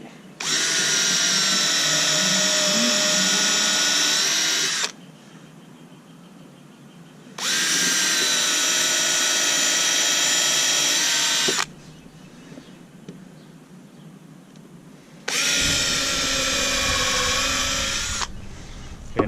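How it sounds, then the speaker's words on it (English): A power drill whirs into wooden boards for a garden raised bed in three loud, close bursts of several seconds each, separated by quiet pauses with faint background noise. "drill a screw into these two pieces of wood at the bottom"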